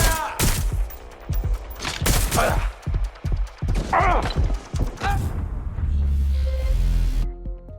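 Rapid gunfire bursts from a firefight in the video game Watch Dogs: Legion, loud and close, with voices talking between and over the shots.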